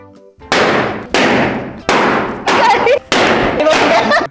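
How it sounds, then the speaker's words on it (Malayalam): Firecrackers bursting outdoors during the Vishu festival in Kerala, five loud, sharp blasts in quick succession, each with a crackling decay, close by and with no talk over them. "എന്തിനാ ആളുകള് പടക്കം പൊട്ടിച്ചേ?"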